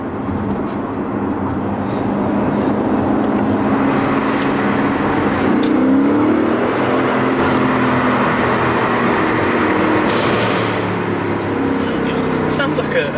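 New Aston Martin V8 Vantage engine heard from inside the car, a steady loud roar that swells and settles, with a sharp exhaust pop near the end under constant road noise.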